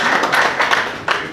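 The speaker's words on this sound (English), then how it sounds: "A round of applause." Audience applause breaking out in a few bursts of clapping at an African tech event, fairly close and dense, rising and falling over a second and a half with no speech.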